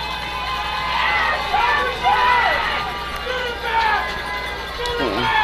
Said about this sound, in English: Crowd's getting loud again.